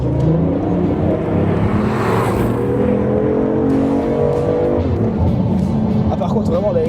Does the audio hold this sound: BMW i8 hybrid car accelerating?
yes